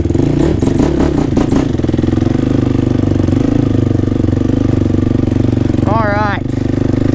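A 2014 Honda 450 ATV engine is ridden in big woods at a house, roaring loud and close throughout with rough throttle blips early on and a steady drone after.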